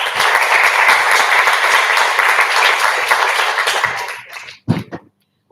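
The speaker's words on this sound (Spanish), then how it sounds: "Así que un aplauso para Pau." An audience in a legislative hall at a philosophy talk on feminism breaks into loud, dense applause that holds steady, then tapers off near the end, followed by a single soft thump and silence.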